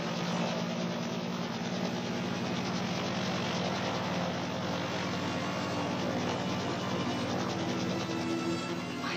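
A helicopter during a sea rescue with a frogman and rescue basket, heard as a constant, loud, close rotor-and-engine roar with a faint rhythmic throb that never lets up.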